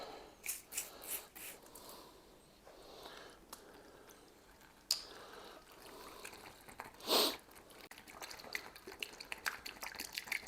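Water sprays into beer wort inside a DIY keg during home brewing of an Aussie draught from a fresh wort kit, faint and irregular hissing and splashing bursts close by, with no talk.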